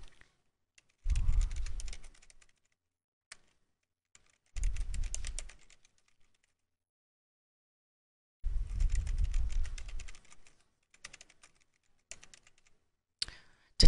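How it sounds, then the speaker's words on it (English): Bursts of typing on a computer keyboard, entering a short description, come in three dense close-up runs of rapid clicks separated by quiet pauses, with a few stray taps near the end and no talking. "I'm going to type, this presentation"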